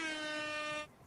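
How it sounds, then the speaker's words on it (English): A loud, sustained air horn blast with a bright, brassy tone holds steady for under a second, then cuts off abruptly. "Air horns for Wolfie"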